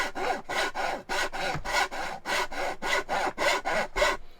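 A Japanese pull saw rasps through wood in a steady back-and-forth rhythm, about ten strong strokes, close and clear with no talking.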